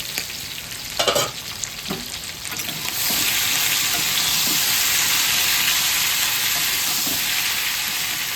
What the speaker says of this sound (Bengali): আবার একটু নাড়িয়ে দিচ্ছি ঢাকাটা খুলে।